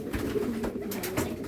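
Racing pigeons cooing softly nearby in a short burst of repeated low coos, quiet and close with no talk.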